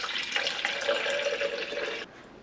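A cup of water is poured for a morning banana smoothie, giving a close, steady splashing pour that stops abruptly near the end and leaves only quiet room tone.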